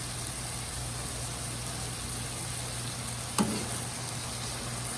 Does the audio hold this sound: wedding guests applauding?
no